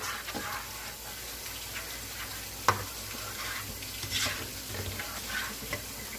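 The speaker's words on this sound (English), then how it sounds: "Saute all these flavors together with a little simmering heat" Pizza sauce sautés in a pan over gentle simmering heat, giving a steady soft sizzle with occasional stirring scrapes and a sharp clink near the middle, with no talking.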